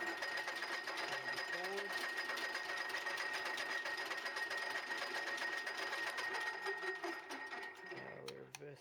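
A metal lathe with an electronic leadscrew runs with its half nuts engaged, giving a steady mechanical whir and faint high whine at low level, slowing toward the end as the machine changes direction.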